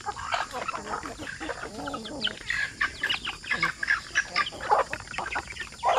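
Several native chickens clucking and fowl calls overlapping in a busy, close farmyard, with steady chatter throughout and some background noise.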